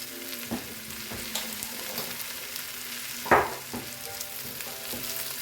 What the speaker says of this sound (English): Let that fry. Do not burn this. Do not burn the thyme.